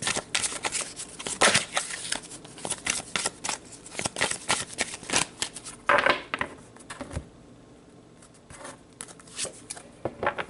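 Tarot cards being shuffled by hand in a run of quick, crisp riffling and flicking bursts, close and fairly soft, easing into a quieter stretch with a few scattered taps toward the end.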